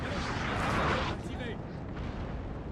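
Cannon artillery fire from a Napoleonic battle in Napoleon: Total War, a loud booming burst up front that fades into a rumbling, noisy battlefield wash with scattered distant reports.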